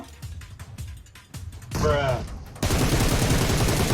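Bursts of rapid gunfire crackle in close succession in PUBG Mobile, with a loud sustained volley near the end, mixed with game sounds.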